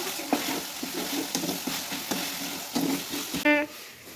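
Capsicum and onion stir-fry in a pan for cabbage Manchurian, a soft oily sizzle under repeated scraping strokes of a spatula, ending with a sharp metallic clink against the pan.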